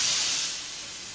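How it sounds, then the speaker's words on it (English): A steam engine gives a short, loud hiss of escaping steam that fades slightly toward its end. "Steam engines wheesh steam."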